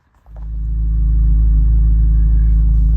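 A 2026 Chevrolet Corvette Z06 3LZ pulls away, its engine swelling from quiet into a deep, loud, steady rumble that holds close and strong.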